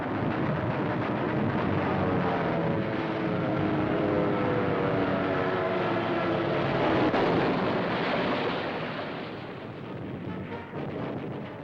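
A dense, rumbling roar of World War II aircraft engines fills the air overhead during the attack on Truk, heavy and continuous, with faint booms mixed in before it fades slightly.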